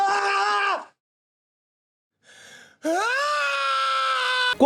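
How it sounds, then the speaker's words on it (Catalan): A man's loud, strained scream from an action-horror teaser trailer with unfinished sound design, in two sustained bursts separated by a silent gap and a brief fainter cry. "el que ens va donar aquest icònic crit de Tom Cruise"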